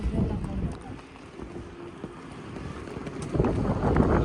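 Wind blows through Jomsom in the Mustang region, a steady low rush and microphone buffeting that swells louder toward the end.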